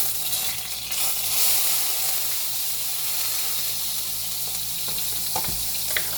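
Garlic and onion sizzle in a pan while being cooked for shakshuka, a close, steady hissing fry with a few stirring knocks near the end and no voices.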